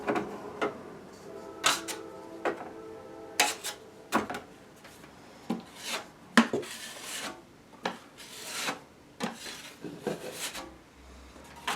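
A drywall knife spreads joint compound onto a sheetrock wall near window trim: close, raspy scraping strokes come in uneven bursts with short pauses, and there is no speech.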